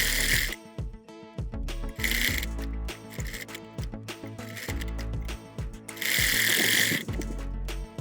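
A sewing machine stitches a baby boy's shirt in bursts of fast mechanical chattering, close and clear, stopping and starting several times with short pauses between runs.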